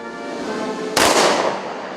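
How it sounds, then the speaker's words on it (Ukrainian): An honorary salute fired at a memorial ceremony for fallen police officers in Ukraine: a single sharp, loud blast cracks out about a second in, then rings and decays over steady background noise. "Їхню пам'ять шанували салютом"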